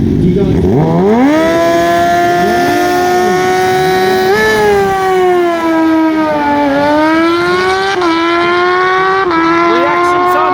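Two motorcycles, one a Honda Fireblade, scream down a drag strip at a Perth Motorplex bike night, their engines revving high and rising through gears in loud, sustained near wails without pauses.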